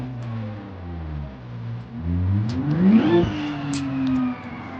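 A car in a video game drives along, its engine tone gliding and rising as it accelerates, loud and steady over nearly five seconds with no talk.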